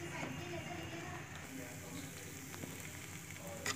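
Ginger paste cooks down in a pan for ginger halwa, giving off a steady, soft sizzle and frying hiss with faint stirring, continuous and close throughout.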